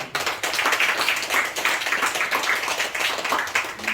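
A church congregation clapping together to encourage middle and high school students before their exams, a brisk burst of many hands clapping in a quick, fairly even rhythm for several seconds.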